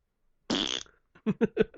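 A single loud, raspy fart lasting about half a second, followed by a short series of fainter, sputtering bursts.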